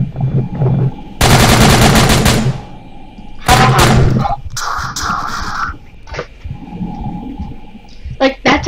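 Rapid bursts of automatic gunfire in the video game SCP: Containment Breach, with Mobile Task Force soldiers shooting: one loud, dense volley of about a second and a half, then sharper shots and game sounds.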